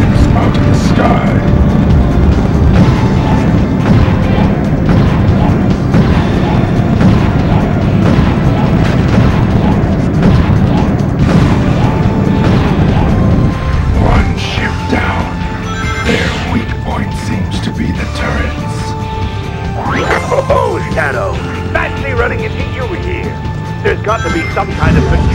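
Booming cannon fire and explosions from ships being blown up in Shadow the Hedgehog, a continuous loud barrage with mechanical rumbling that thins out partway through, under a voice speaking.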